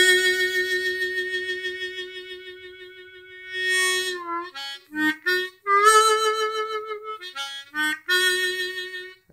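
Half-valved diatonic harmonica played on draw notes with vibrato: a sustained, wavering tone pulsing steadily, then a few shorter bent notes and phrases, played close and alone.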